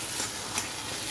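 Taro leaves (kochu shak) cook in a pan, giving a soft continuous sizzle with faint stirring scrapes, close and steady.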